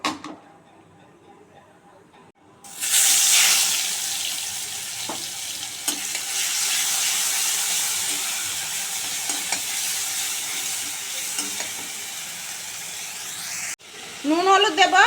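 A paste of onion, ginger, garlic and green chilli hits hot oil and bursts into a loud, sustained sizzle after a quiet start, with occasional stirring clinks and a brief voice near the end.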